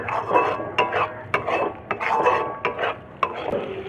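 Spice masala sautéed in a pan with dried fenugreek leaves, a spatula scraping and knocking against the metal in an irregular rhythm over a soft sizzle, close up with no talking.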